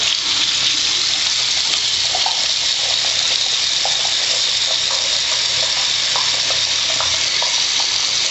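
Steady rush of running water from a tap with soft wet squishing and rubbing sounds of hands lathering melt-and-pour soap frosting made with liquid hand sanitizer and cornstarch, no voices.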